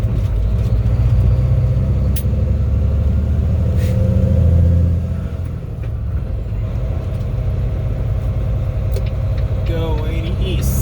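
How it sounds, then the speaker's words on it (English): A car engine rumbles and revs while driving on a highway, a loud low drone that eases off partway through, with people talking over it. "You gotta rev it up a little bit."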